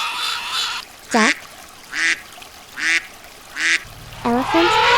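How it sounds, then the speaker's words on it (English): A duck quacks five times in short, evenly spaced bursts, close and fairly loud against a quiet background, with no voices. "duck,"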